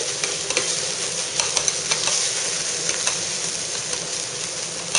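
Monjayaki, a Tsukishima-style batter dish, cooks on a hot iron griddle, giving a constant close sizzle broken by sharp scraping and tapping of spatulas, with a low background hum and no talking.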